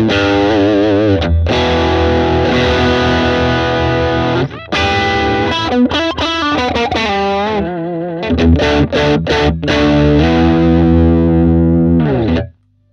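Electric guitar played through an Ibanez mini effect pedal with distortion, loud sustained chords and choppy rhythmic stabs with brief gaps, ending in a sudden cut to silence.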